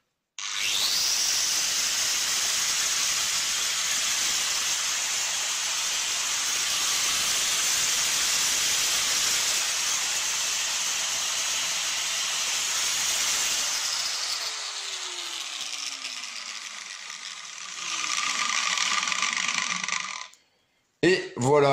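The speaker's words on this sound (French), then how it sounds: "Et voilà comment on répare une meuleuse d'angle." A repaired angle grinder switched on whirs with a loud, steady high-pitched whine for about fourteen seconds, spins down with a falling tone, briefly revs again, then cuts out with a couple of clicks.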